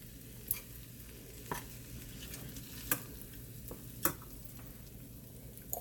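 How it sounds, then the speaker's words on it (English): A spoon stirs salmon, vegetables and jasmine rice in a pan, giving soft scraping strokes and several sharp taps against the pan over a faint sizzle, close and quiet with no voices. "Let's go ahead and stir."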